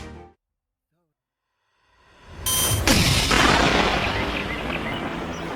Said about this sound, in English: The sound of gunfire echoes among the misty mountains of the Victoria Highlands